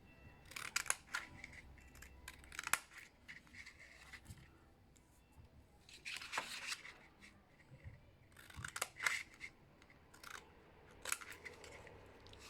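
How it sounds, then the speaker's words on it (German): Several crisp scissor snips cutting through paper card stock for a gift box card, coming in short bursts with pauses between, close by and fairly quiet, with no talking. "Na, meine Schere klebt."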